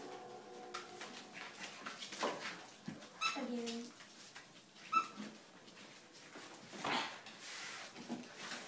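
Seven-week-old puppies wrestle and play with a ball, giving faint, scattered whimpers and a brief high whine amid soft rustling. A person murmurs quietly at one point.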